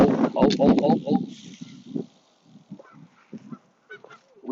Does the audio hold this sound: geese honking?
yes